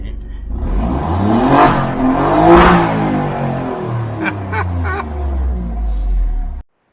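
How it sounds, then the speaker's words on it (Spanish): Alfa Romeo Giulia QV 2021 V6 engine revving up close, rising in two strong surges and then clattering through a few short blips before cutting off abruptly. "Cambio normal, acelero."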